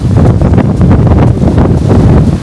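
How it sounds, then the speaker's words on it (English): Strong wind gusting hard across a microphone outdoors in downtown San Antonio, Texas, a loud, steady rumbling buffet that swells and pulses for a couple of seconds with no voices. "it's getting really windy"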